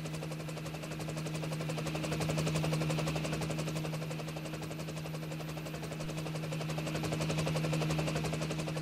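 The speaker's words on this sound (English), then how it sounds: "the helicopter is actually turning to make a landing." A helicopter in flight turns to make a landing, its steady rotor thrum and engine whine holding close and even throughout, gently swelling and fading in loudness.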